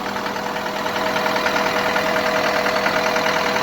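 John Deere 330G skid loader engine idling close by, a steady mid-pitched diesel drone with a faint rhythmic knock and even vibration throughout.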